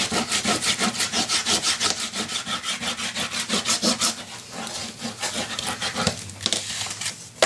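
Glued paper pieces of a memory box kit being burnished, a close, steady back-and-forth rubbing in quick regular strokes that slows and turns uneven toward the end.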